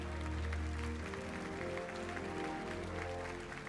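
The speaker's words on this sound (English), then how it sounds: "To the plaudits of the crowd here in Tokyo." Crowd applause at a Tokyo award ceremony, a steady wash of clapping over a low musical tone, fairly faint and even throughout.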